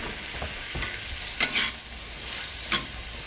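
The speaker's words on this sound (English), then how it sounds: "onion and the green pepper and bacon is starting to sweat down" Chopped onion, green pepper and bacon sizzle in a hot pan for a Cajun pork roast, a steady close frying hiss broken by two sharp bursts as the mixture is stirred, with no voices.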